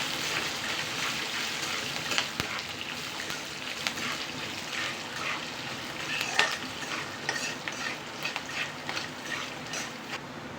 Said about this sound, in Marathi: ह्या मिरच्या तळायला घेणार आहे त्याचबरोबर आपण जे शेंगदाणे घेतलेले ते पण याच्यात टाकून थोडंसं छान तेलात असं तळून